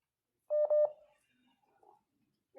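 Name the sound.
telephone being dialed to call a coach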